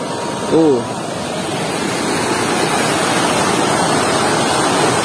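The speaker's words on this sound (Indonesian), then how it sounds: "Wah, di sini ada sungai sahabat tuh. Arusnya cukup lumayan deras." A fairly strong river current rushes steadily on a mountainside slope near a hillside village, a dense, continuous broadband roar filling the whole stretch, with a brief voice cutting in near the start.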